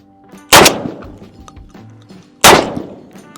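Two loud, close shotgun blasts from a Mossberg 990 firing 3-inch number 4 shot shells, spaced about two seconds apart, each a sharp crack followed by a short ringing decay outdoors, with no talking.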